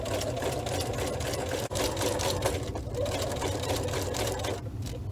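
Sewing machine running a zigzag stitch along a fabric seam for a table project, a steady close mechanical whir with rapid needle ticking that carries on throughout with no talk.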